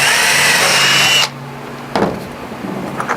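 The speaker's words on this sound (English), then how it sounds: "drill some pre-drills right through here and through here, and screw that together" A power drill whirs loudly for about a second while pre-drilling a 2x4 for screws, stops abruptly, then a couple of quieter knocks and clatters follow.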